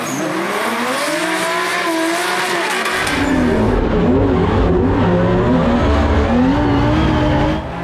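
Drift cars on a tandem run at a racing event, with a high revving engine note rising, then a second car joining in, tyres squealing and engines roaring loud and close together.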